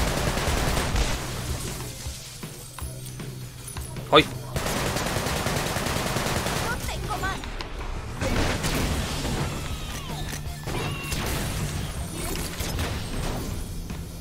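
Gunfire in the Sunset Overdrive video game crackles in rapid bursts over steady game music and effects, with one sharp loud shot standing out; someone talks briefly over it.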